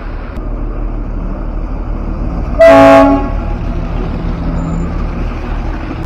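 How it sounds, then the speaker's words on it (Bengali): Darjeeling toy train engine at the station sounds one loud horn toot of about half a second, sitting over a steady idling rumble and station ambience. "আমার পিছনেই আছে টয় ট্রেনের ইঞ্জিন।"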